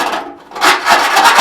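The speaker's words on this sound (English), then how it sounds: "So we're going to file the hole" Quick, close rasping strokes of a file working a hole in sheet metal to clear off small shavings, several short scrapes in a brief burst.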